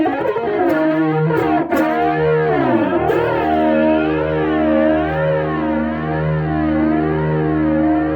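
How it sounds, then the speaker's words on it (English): An electric guitar played through the phaser setting of a SONICAKE multi-effects pedal, distorted sustained chords sweeping up and down in a slow, regular whooshing cycle after a few opening strums, loud and close. "Let's do a little phaser."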